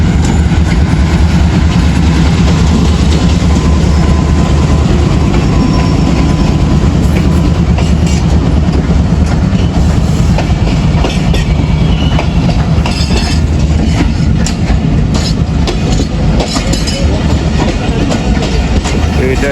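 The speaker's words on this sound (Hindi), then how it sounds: "ये दो ट्रेनों का रश है।" Two trains, one of them the Millat Express, rush past close by on the railway, making a loud, continuous roar of wheels with rhythmic clickety-clack and occasional metallic squeals throughout.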